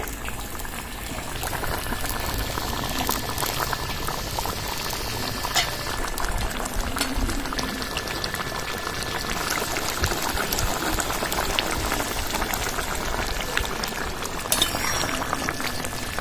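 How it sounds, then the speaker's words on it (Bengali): Fish curry gravy boils steadily in a pot, a dense continuous bubbling and popping that stays loud and even throughout, with no voices. "ঝোলটা ফুটছে এবার ভাজা মাছগুলো দিয়ে দেবো ঝোলের মধ্যে"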